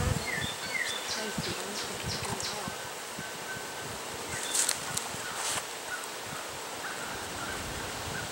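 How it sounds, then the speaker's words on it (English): Honey bees crawling and buzzing on frames from a swarm nucleus hive during an outdoor hive inspection, a steady close humming drone with faint rustling and occasional brief louder buzzes. "we'll bring it in close so you can see it"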